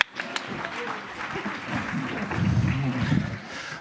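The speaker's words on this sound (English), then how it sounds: "You can applaud yourself." A conference audience at a humanitarian congress in a large hall applauds itself, a moderate clatter of clapping that swells toward the end, mixed with murmuring voices and some talk.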